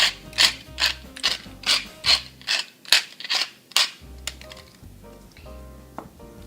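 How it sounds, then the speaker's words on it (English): A pepper mill grinds fresh pepper over a Polish kotlety mielone meat mixture: about nine close, crisp ratcheting twists in a steady rhythm, followed by quieter rubbing clicks, with no talking. "And now, freshly ground pepper."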